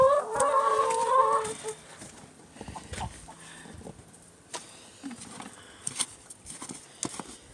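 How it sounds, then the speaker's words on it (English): Chickens cluck and squawk loudly at first, then scattered clucks and rustling continue more faintly in the background. "Crazy chickens."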